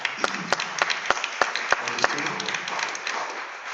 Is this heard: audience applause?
yes